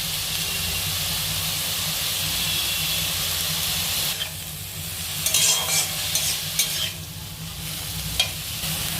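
Garlic cloves fry in hot oil with a loud, dense sizzle, then the sizzle thins and breaks up as stirring scrapes and clatters in the pan take over.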